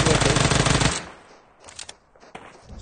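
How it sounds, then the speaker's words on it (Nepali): Loud, dense gunfire from a shotgun in a competitive online shooter game scrim, an intense burst for about a second followed by a few scattered, quieter shots. "सर्टगन हो सर्टगन"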